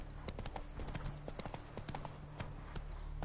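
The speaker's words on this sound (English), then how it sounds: "Run, Roach" A horse gallops in The Witcher 3 video game with rapid, rhythmic hoof clip-clops that continue steadily throughout, at moderate distance and fairly quiet.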